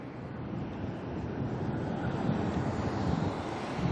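A departing airliner climbs out of Auckland Airport with a low, rumbling engine roar that builds gradually, mixed with gusty wind buffeting the microphone.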